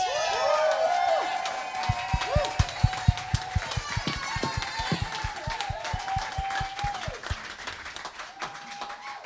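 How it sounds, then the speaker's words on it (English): A theatre audience at a musical's finale cheers, shouts and claps for the writers, loud and close, with whoops, a burst of rhythmic clapping and voices across the crowd. "can we shout massively loud?"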